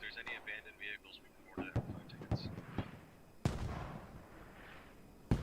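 Intermittent mortar fire in a military video game, with sharp thumps and booms at irregular intervals, some near and some distant, over background game noise.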